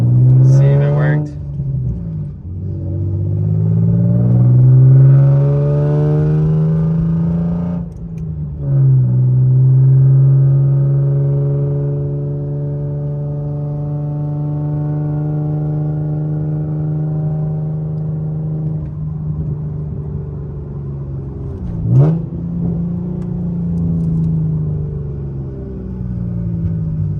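Interior engine hum of an Infiniti G35 driving on a main road, a loud steady drone that rises and falls with acceleration and gear changes, with brief shifts and a few sharp clicks.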